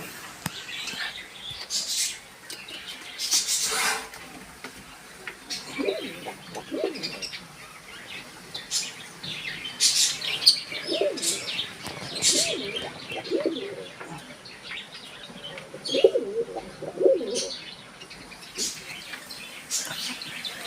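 Soft, low pigeon coos recur across the scene, mixed with scattered chirps and light background rustle at moderate distance.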